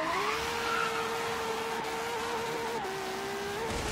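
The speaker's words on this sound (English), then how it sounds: "Third gear, still blasting those tires off this thing from a dead stop" LaFerrari in Forza Horizon 3 spinning its tires from a dead stop in third gear, a sustained high engine howl with squealing rubber, holding steady pitch before a brief dip and rise.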